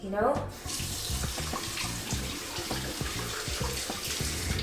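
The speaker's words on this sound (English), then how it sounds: "Just rinsing out the brush." Running tap water pours steadily as a brush is rinsed under it, a continuous close splashing rush filling the whole stretch.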